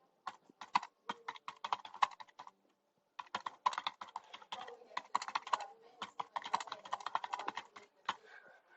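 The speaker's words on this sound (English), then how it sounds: "you look down at the keyboard when you're typing" Typing on a computer keyboard: dense bursts of close, crisp keystrokes in quick irregular rhythm, with a short pause near the middle and a few isolated taps at the end. No voices.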